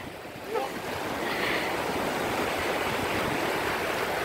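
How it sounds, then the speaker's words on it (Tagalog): Ocean waves washing onto the shore at Matavera, Rarotonga in the Cook Islands, a broad rushing swell surging in after a brief lull and holding as a loud, close wash with wind noise. "Oh, umabot na yung alon. Yung tubig dito sa amin, sa paa namin."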